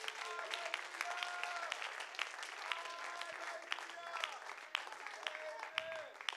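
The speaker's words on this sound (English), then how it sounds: "Somebody give them a clap offering of praise." Applause from a church congregation during a worship service, steady clapping of moderate loudness with scattered voices and a few sung or spoken tones rising over it throughout.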